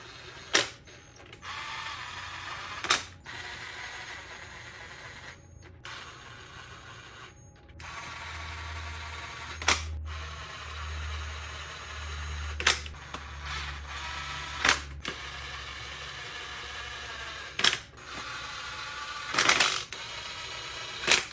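Bolts go into a Honda CR-V transmission cover with a ratchet, in scattered sharp metallic clicks and clacks separated by pauses. Nearby work noises and a low hum sit underneath for part of the time.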